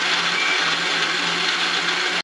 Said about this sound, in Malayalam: നമുക്ക് മിക്സ് ചെയ്യാം. നമ്മൾ പാലും കൂടി ചേർത്തിട്ടുണ്ട്.